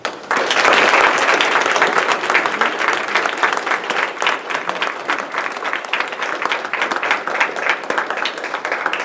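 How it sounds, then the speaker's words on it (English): A school board meeting audience breaks into sustained, dense applause honoring a lifetime member of the Leadership TASB Alumni Association, loud and continuous throughout. "Please join me in a round of applause."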